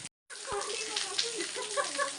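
Water being poured close by: after a brief silence, a steady splashing gush continues without a break, fairly loud and alone.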